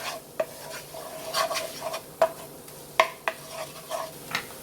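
A butter and flour roux is stirred in a pan, giving a soft sizzle under irregular scraping strokes and several sharp utensil clicks against the metal, close up with no voices.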